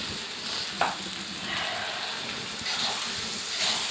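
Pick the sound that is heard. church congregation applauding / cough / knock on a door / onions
onions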